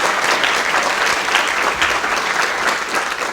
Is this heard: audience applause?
yes